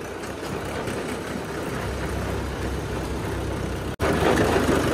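A Mahindra or Arjun tractor engine runs steadily at close range in a farm setting, a continuous low diesel rumble that cuts out for an instant near the end and then comes back slightly louder.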